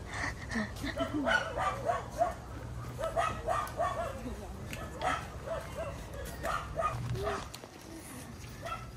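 Dogs bark and yip repeatedly outside a family home in the Philippines, with close, lively barks running under people talking over them.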